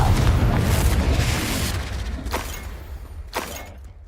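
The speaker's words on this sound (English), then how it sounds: "Confringo!" A Confringo fire spell explodes in Hogwarts Legacy, a loud boom that rumbles and fades, followed by a couple of sharper cracking bursts as it dies away.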